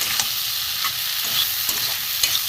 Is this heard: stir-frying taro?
yes